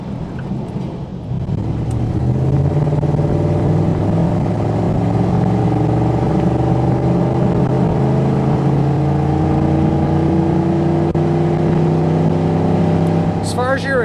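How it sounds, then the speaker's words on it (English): A lifted 1992 Chevrolet K1500 with a 305 engine and aftermarket Magnaflow exhaust rumbles steadily from inside the cab, its deep exhaust drone rising gradually as the throttle is pressed, loud and continuous. "When you get into the throttle a little bit more like I just did, you still hear some motor, but you do hear the exhaust"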